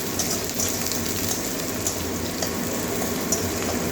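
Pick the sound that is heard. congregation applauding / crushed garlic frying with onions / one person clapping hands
crushed garlic frying with onions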